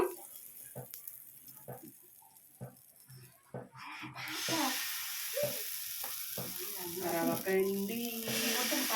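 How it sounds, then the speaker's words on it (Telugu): Dosa batter poured onto a hot griddle: a few soft knocks and taps, then a loud, sustained hiss of sizzling that bursts in partway through and keeps going to the end. "ఓకే మంచిగా వేడెక్కేసింది దోశ వేసేస్తున్నాను"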